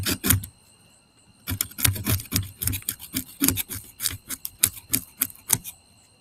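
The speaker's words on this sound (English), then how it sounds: "I'm just going to scale it real quick." A knife scrapes scales off a largemouth bass in quick, rough rasping strokes after a short pause, with repeated close scraping bursts and a steady background tone.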